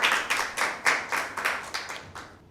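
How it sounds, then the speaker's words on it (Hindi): Applause for Team B at a Bible quiz show, a run of about nine fairly loud, sharp clapping bursts at a steady rhythm, each fading quickly, with no talk over it. "टीम बी के लिए ज़ोरदार तालियां"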